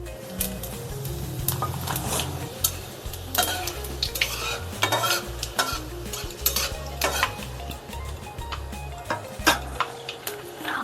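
Panch phoron and whole cumin seeds sizzle in hot oil in a pan for Punjabi kadhi pakora, with a steady frying hiss broken by frequent utensil clinks and stirring taps close by.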